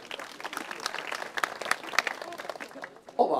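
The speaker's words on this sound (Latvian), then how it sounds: "Ovācijas nebija, bet aplausi pietiekam vētraini" Audience applause at the opening of the DZMIT conference at the University of Latvia, dense steady clapping from a crowd throughout, fairly loud and close.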